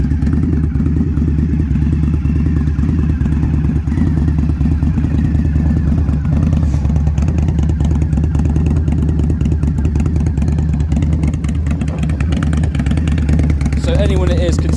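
A 2018 Indian Scout Bobber motorcycle idles loud and close, its steady deep engine rumble with a fast pulsing beat running the whole time and a voice talking over it.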